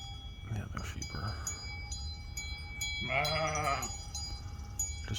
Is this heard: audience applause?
no